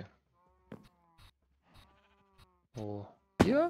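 Sheep in Minecraft bleat, with a few faint, scattered sounds first and then two loud, close, wavering bleats in quick succession near the end.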